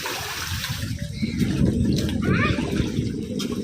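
Tap water runs steadily into a tub or basin at a child's bath, with splashing and trickling throughout and voices and activity around it.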